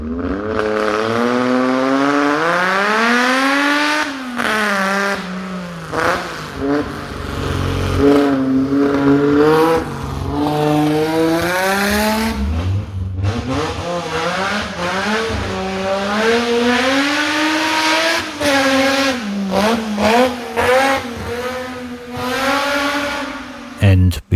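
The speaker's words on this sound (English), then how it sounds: "a concrete 6-into-1 header that's driven by someone who's scared it's going to explode" A car engine revs hard through a cast concrete 6-into-1 exhaust header, loud and close, rising and falling in long sweeping pitch climbs with sharp throttle blips, one header pipe cracked.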